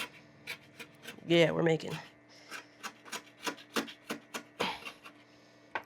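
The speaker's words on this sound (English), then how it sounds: "Now when you scrape and you don't hear nothing, nothing comes off." Crusted deposits are scraped off the glass of an aquarium tank with repeated rasping strokes that form a steady rhythm. A voice speaks briefly near the start.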